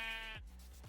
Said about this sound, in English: We got 2 sheep.